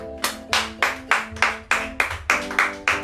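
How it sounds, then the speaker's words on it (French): A church congregation claps together in a steady, even rhythm, about ten sharp claps roughly every third of a second, with sustained keyboard tones underneath and no talking. "Est-ce qu'on peut acclamer le Seigneur?"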